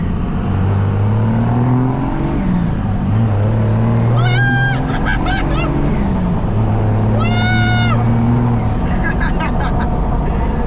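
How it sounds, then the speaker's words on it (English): A turbocharged truck accelerates hard, its engine note climbing and dropping through gear changes while chirping turbo and blow-off whistles cut in, loud and close, with a voice heard over it. "That turbo, man, it sounds so good"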